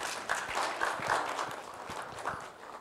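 An audience at a corporate agile talk claps for a speaker, a dense patter of applause at moderate loudness throughout.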